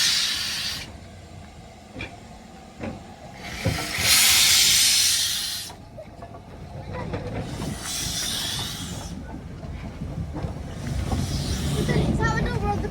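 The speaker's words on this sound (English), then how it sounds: "This is the number of the Polar Express. North Yorkshire Moors Railway, Santa special" Polar Express Santa special steam train on the North Yorkshire Moors Railway, releasing loud bursts of hissing steam in three long surges over a low rumbling background, with people talking nearby.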